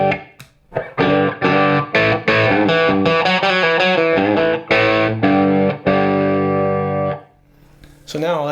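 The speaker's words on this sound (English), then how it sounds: "I can switch over to the rhythm sound and kind of simulate the warmness and sort of slight overdrive" An electric guitar on a warm rhythm tone with slight overdrive plays a run of ringing strummed chords and short stabs, close and loud, ending on a sustained chord that fades out.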